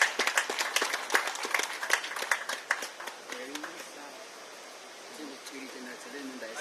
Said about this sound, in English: the Honorable Minister deserves another round of applause